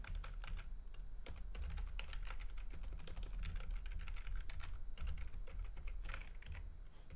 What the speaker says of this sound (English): So we'll type here C.S. Lewis and The Great Divorce